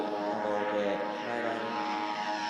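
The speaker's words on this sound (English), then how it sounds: "This is drone." A drone flies nearby, likely during the search for the Hayabusa-2 capsule's return, giving a steady, dense propeller buzz that holds at an even loudness throughout with no pauses.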